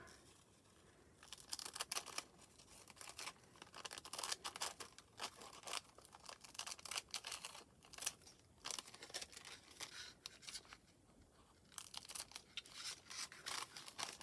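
Sharp, irregular snips and rustles of paper being cut with scissors while making a baggie tip, close and fairly quiet, with brief pauses between bursts of cutting.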